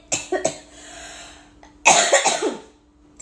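Two short coughs, then a pause, followed by a louder fit of several harsh, close coughs in quick succession.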